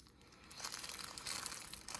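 Plastic packaging crinkling and rustling up close as an action camera is unboxed, quiet and continuous with brief louder crackles and no talk.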